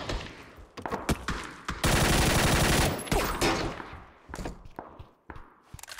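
Gunfire from a bot in PUBG, close and loud, with scattered single shots, then a sustained burst of automatic fire, then more sharp cracks and thuds trailing off.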